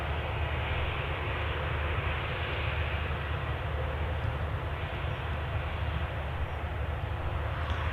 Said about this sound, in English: You obviously lose the aircraft a bit when it gets to the threshold of the runway.